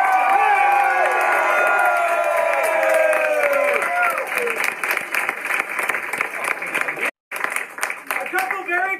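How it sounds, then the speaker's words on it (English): Audience at a Shakespeare-themed theatre event applauding and cheering for actors, loud dense clapping with whoops and shouted voices that thins out after a brief gap, and individual claps continue to the end. "Another round of applause for these amazing actors!"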